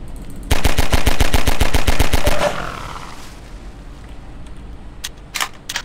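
Gunfire from the video game Transmissions Element 120: a loud rapid burst of about a dozen evenly spaced automatic shots lasting roughly two seconds, then quieter ambience with a few brief clicks near the end.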